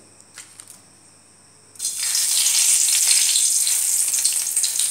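Bay leaves drop into hot oil for a mixed-veg malai kofta curry: a quiet start with a few faint clicks, then a sudden loud, hissing sizzle that holds steady to the end.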